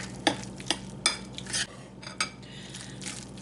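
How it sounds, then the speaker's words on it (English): A spoon stirs thick corn fritter batter in a bowl, giving several short scraping clinks at an irregular pace against a low steady hum. "we're just going to get this all mixed in well"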